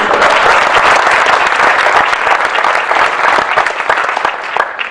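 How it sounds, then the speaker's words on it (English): An audience at a Passaic County Commissioner meeting applauds in a dense burst of clapping, loud at first and gradually thinning toward the end. "He deserves another round of applause."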